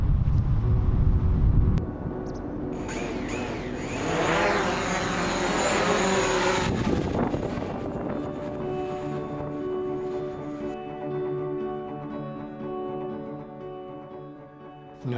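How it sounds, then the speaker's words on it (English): Heavy wind buffets the microphone in loud rumbling gusts, mixed with the whirring motors of a DJI Mavic Pro drone that rise and fade over the long stretch. "as you could probably hear from the clip before, it was incredibly windy"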